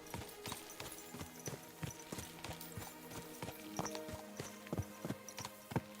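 Horse hooves clip-clopping steadily in the medieval game Kingdom Come Deliverance 2, a regular walking rhythm of sharp, close hoof strikes with no talk over them.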